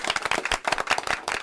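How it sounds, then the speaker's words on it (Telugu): A group claps together on cue, a brisk run of sharp, fairly even handclaps lasting about a second and a half with no talking over it. "ఎరా ఒకసారి చప్పట్లు కొట్టండి"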